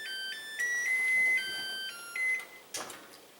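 An electronic kitchen oven beeps after preheating, sounding a few sustained high tones in short separate bursts against quiet room background, with no talk.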